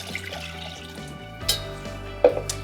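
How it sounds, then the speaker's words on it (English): Water for cooking quinoa is poured into a pan in a kitchen, a steady wet running sound with a few splashy drips and clinks standing out, close and moderately loud, with no talking. "I'm going to add the water to the pan"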